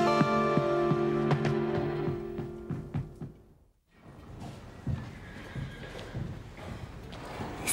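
A horse whinnies in a long harmonic neigh, followed after a brief pause by the uneven clip-clop of hooves and rustling, all fairly close and without talk.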